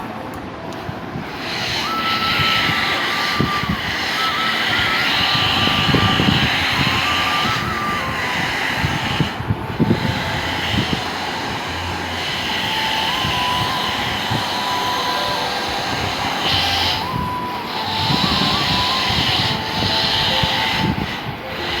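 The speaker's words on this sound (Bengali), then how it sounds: "কোথায় হেয়ার ড্রায়ার আর কোথায় হাওয়া" A hair dryer blows on freshly washed hair, giving a steady, loud whooshing roar that runs without a break, with slight swells and dips in strength.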